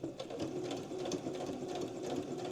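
Sewing machine stitching steadily around a fabric book page, a continuous close whirring hum with rapid needle ticking, quiet and uninterrupted.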